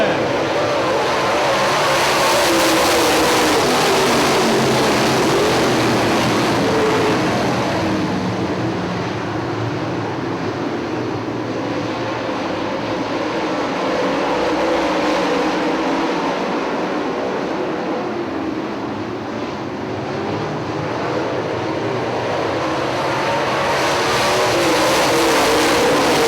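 UMP late model race cars at Hartford Speedway, a dense, continuous roar of many engines from the field, loud and sustained throughout, with faint background noise.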